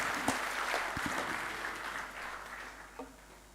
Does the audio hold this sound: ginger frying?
no